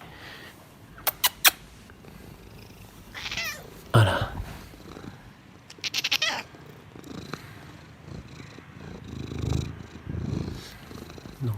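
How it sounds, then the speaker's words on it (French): A cat that has slipped into an office gives scattered meows over a soft rumbling purr, with sharp clicks and brief rustles here and there; one short spoken word. "Donc c'est un chat qui s'est introduit dans le cabinet."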